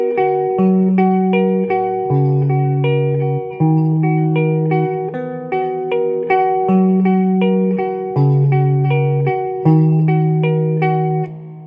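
Electric guitar plays the intro riff of a song, a repeating single-note pattern with a bright, slightly effected tone, loud and alone without talk.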